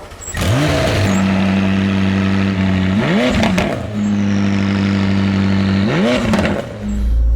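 McLaren 600LT Spider engine fires up and blips through several sharp revs, each swelling then settling back to a loud, steady idle, heard close by.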